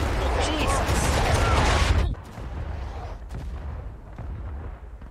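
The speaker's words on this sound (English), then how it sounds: "That artillery's going ham" Artillery fire in the War of Rights video game during a skirmish at Harpers Ferry: heavy, roaring cannon blasts fill the first two seconds, then fade into rumbling distant booms and scattered shots.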